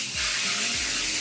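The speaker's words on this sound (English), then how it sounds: "I'm going to spray it with the working spray." A close, loud burst of hairspray, a working spray misted onto a section of hair before curling with a wand, heard as a continuous broad hiss with a few faint low bumps underneath.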